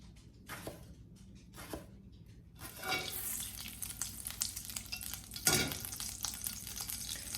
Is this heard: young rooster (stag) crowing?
no